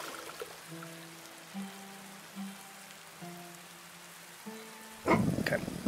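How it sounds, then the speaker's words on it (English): Soft, steady rain hisses in the video game Dead in Vinland beneath gentle tonal game music, with a louder burst of splashy noise near the end. "I'll regret it tomorrow if it keeps raining."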